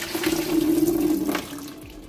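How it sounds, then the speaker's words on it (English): Tap water running over yam being washed for a balcony-cooked pumpkin soup; a close, steady splashing stream that swells then eases off near the end, with no voices. "I'm just gonna wash off my yam"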